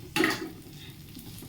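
Onion dropped into hot melted butter in a pan, a sudden loud sizzle that quickly settles into a steady, softer frying hiss with faint utensil noise.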